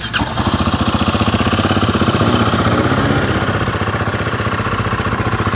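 A Royal Enfield Guerrilla 450 roadster idles, its single-cylinder engine thumping in a fast, even rhythm with a loud, close exhaust note that holds steady with no talking.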